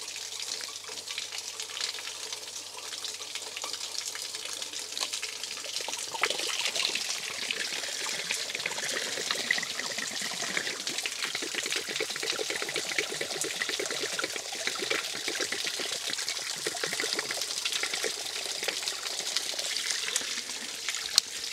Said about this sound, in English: I'll have to drain it this way.